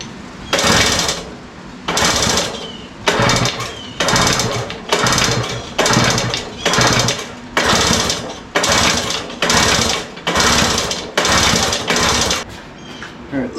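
Small engine of a restored vintage kids ATV sputtering and revving in rhythmic bursts about once a second, loud and close, with no talk over it.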